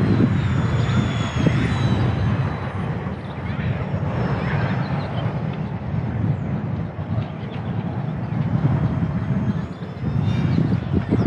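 An XK A170 Boeing 787 RC plane made of EPO foam flies outdoors, and its steady motor drone runs continuously at moderate loudness, a little slower into the wind.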